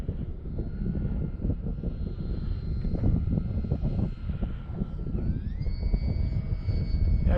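A radio-controlled model airplane fitted with a new, more powerful motor drones overhead in a park, its steady buzzing whine rising in pitch partway through as the throttle opens, heard alone at moderate distance.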